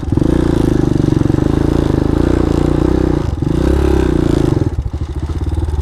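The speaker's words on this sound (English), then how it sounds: "Riding in the sands like having a flat tire." Golf cart driven through sand on a flat tire, a loud continuous low engine drone with rhythmic thumping and clatter from the deflated wheel, briefly dipping and surging.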